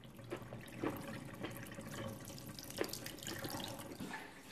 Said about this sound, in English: All the water pours out